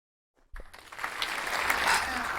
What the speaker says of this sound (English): Obviously, that deserves an applause.